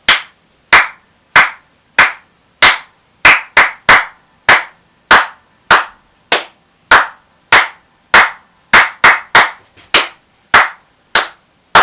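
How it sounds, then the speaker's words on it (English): A single pair of hands claps a rhythm in 3/4 time, with crisp, loud, close claps and silent gaps between them, grouped in uneven patterns of longer and shorter spacing. "The last step is to just clap them like this."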